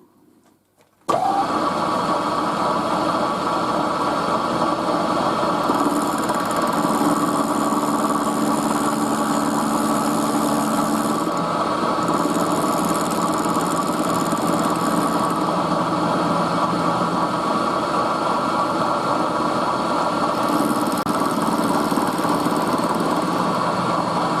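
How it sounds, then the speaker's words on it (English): A milling machine squares up the end of a steel plate that was cut off with an angle grinder, starting abruptly and then running as a steady, loud, continuous machining whine with no talk. "I'm just squaring it up with the mill"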